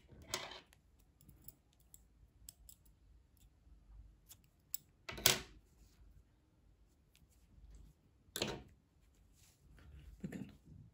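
Scissors cutting crochet yarn while finishing a baby vest; a few sharp, quiet snips and clicks spaced out over a near-silent background, close up, with no speech.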